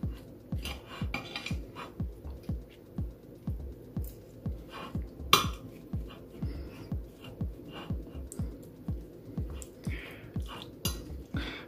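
A spoon working salted baked potato filling in a bowl, making a steady rhythmic series of soft clinks and squishy thuds, roughly twice per second, close and fairly quiet.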